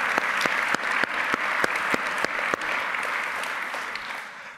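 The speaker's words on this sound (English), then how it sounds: "let's give them a round of applause as well" A conference audience at CppCon 2017 applauds, a dense, steady wash of clapping with sharp individual claps standing out near the start, then settling into an even, sustained round before tapering slightly.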